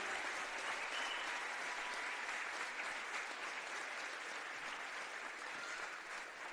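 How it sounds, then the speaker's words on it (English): Continuous crowd applause at a high school prom grand march for juniors and seniors, a steady, even wash of clapping heard at a moderate distance with no voices. "And one more round of applause, ladies and gentlemen, for these juniors and seniors."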